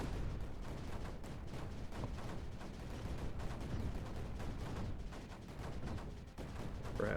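Cannons fire in rapid succession in the video game Creeper World 4, a steady barrage of overlapping thuds and booms that rumble low and close with no break.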